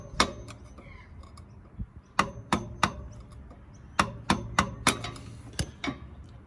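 Sharp metal taps as a tool knocks down a CV boot clamp on a Porsche Boxster 986, a dozen or so close, crisp strikes in irregular bursts with short pauses between them.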